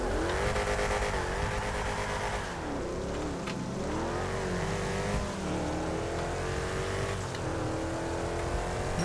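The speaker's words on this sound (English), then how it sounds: "Nice sound in your car." Car engine in Grand Theft Auto racing gameplay, revving and droning steadily with rising and falling pitch sweeps and occasional tire squeal, loud and continuous throughout with no talk.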